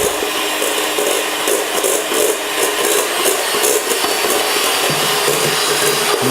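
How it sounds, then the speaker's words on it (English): An electric food mixer whisking egg whites for meringue nests whirs loudly and steadily, a harsh broadband rattling drone that runs throughout without speech. "It's a very good food mixer, but very loud."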